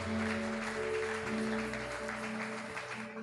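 A church congregation applauds to acclaim Jesus, a dense sustained wash of clapping throughout, steady and fairly loud, with a sustained tone humming beneath.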